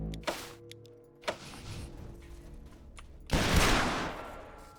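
Gunfire in Wasteland 2: a couple of sharp shots, followed by a longer, louder burst of noisy blasts near the end.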